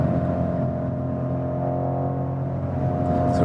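BMW M550i with a V8 petrol engine, a steady low, deep drone from inside the car, continuous and moderately loud, with no talking.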